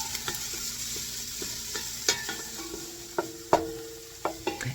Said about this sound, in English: we're just going to saute this down just until these become translucent and fragrant